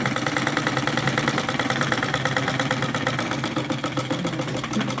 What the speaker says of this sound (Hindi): सिलाई के ऊपर, निशान के ऊपर सिलाई चला लें।